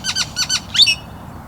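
A bird gives a series of sharp, rapid laughing calls, about four bursts in quick succession and fairly close, ending abruptly with a faint hum beneath.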